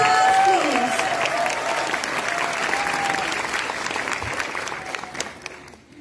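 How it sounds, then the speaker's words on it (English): A large crowd applauds loudly with dense, steady clapping that gradually fades toward the end. "A big round of applause."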